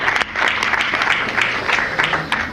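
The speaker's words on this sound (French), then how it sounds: "On aime bien applaudir." Audience applause at a Halloween costume contest, a dense, steady clapping from a crowd that holds loud and even throughout, with a few sharper individual claps popping out of the wash.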